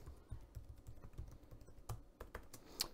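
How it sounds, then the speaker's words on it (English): Quiet, quick typing on a computer keyboard as a password is entered, a steady patter of light key clicks with a couple of sharper taps near the end. "I'll put in a password. Nope, gotta type it in there."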